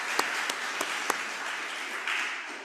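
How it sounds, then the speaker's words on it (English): Audience applause at an annual meeting, a broad, steady wash of clapping with a few sharper individual claps standing out, moderately distant and fading slightly toward the end. "So big round of applause for them in particular as well."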